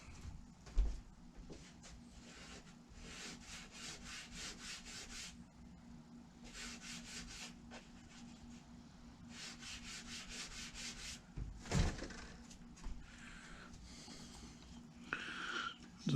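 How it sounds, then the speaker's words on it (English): Sandpaper works back and forth on the wooden planking of a model ship hull, giving repeated rhythmic rasping strokes in several bursts. The sound is close and fairly quiet, with a few knocks between passes. "But I think I need to sand a little off of that bottom part there."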